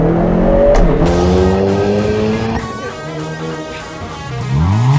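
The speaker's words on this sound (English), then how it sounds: "in N mode, the all-new KONA N completely transforms into a track machine" Hyundai Kona N, a 2022 car in N mode, its engine revving hard with rising and falling pitch sweeps and gear changes, loud and close, with a brief tire squeal.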